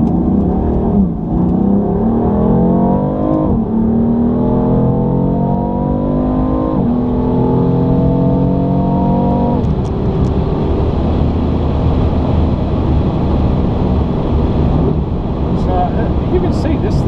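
A BMW M4 accelerates hard on a dry road, its engine rising in pitch through several gear changes, loud and close from inside the cabin, then settling back to a steady cruise.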